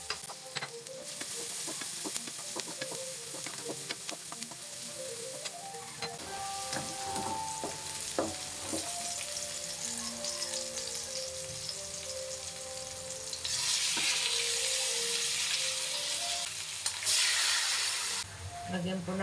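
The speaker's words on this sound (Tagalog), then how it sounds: "Ilagay natin ang ating bawang." Garlic sizzles and fries steadily in a pan while pata tim is made, with occasional stirring scrapes and a brief burst of louder hiss near the end, under faint background voices or music.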